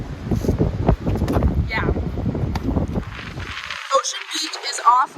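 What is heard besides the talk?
strong wind at Ocean Beach on the Pacific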